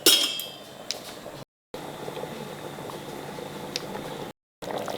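Vegetables and water boiling in a pot for pulao, a steady close bubbling and simmering hiss with faint clinks of the pot, continuous apart from two brief cuts.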